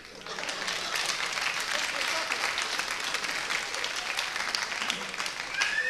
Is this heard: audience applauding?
yes